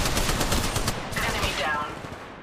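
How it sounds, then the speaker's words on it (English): Rapid automatic gunfire in the Apex Legends video game: a dense burst of close, sharp shots in quick succession that fades into softer whooshing effects. "Opening fire"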